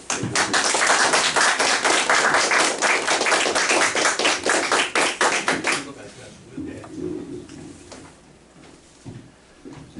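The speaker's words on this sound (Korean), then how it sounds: "나오실 때 큰 박수로 한번 맞아주시기 바랍니다" An audience at an energy and power-industry seminar claps loudly and rapidly for about six seconds to welcome the speaker, then the applause quickly dies away into quiet room noise.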